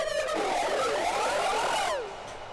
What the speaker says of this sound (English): this is the ending of that riser before I added that cutoff